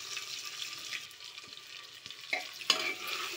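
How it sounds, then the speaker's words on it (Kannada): Onion and fenugreek leaves fry in a little oil, a quiet steady sizzle broken by several scraping stirs and a sharper clack of a utensil against the pan, no voices. "ಫ್ರೈ ಮಾಡ್ಕೊಬೇಕು ಈರುಳ್ಳಿ ಮೆಂತ್ಯ ಸೊಪ್ಪನ್ನ."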